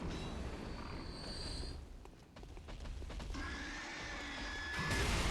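Pig enemies in the video game Bloodborne let out shrill, wavering squeals over a rumbling game backdrop, with several cries spread across the moment.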